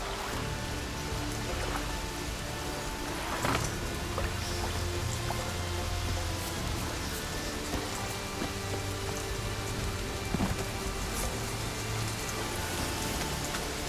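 Steady rainfall in The Witcher 3 hisses evenly throughout, with scattered heavier drops and faint distant rumbles beneath the constant wash.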